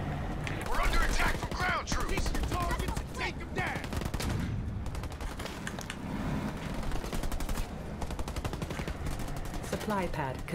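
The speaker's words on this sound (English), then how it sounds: "I'm under fire from the enemy." Rapid bursts of gunfire from an enemy attack in Halo Wars 2 crackle continuously, dense and repeated, with mechanical clatter mixed in.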